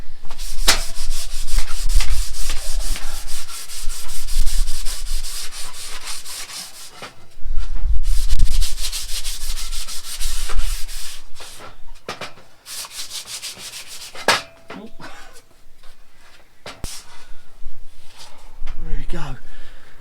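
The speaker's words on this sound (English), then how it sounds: "I'm just going to quickly sand it down with a bit of sandpaper, just to, again, make sure I don't get any splinters." Sandpaper rubbed over a wooden piece for a DIY van storage build, a close, steady scratchy sanding in repeated strokes with brief pauses, fairly loud throughout.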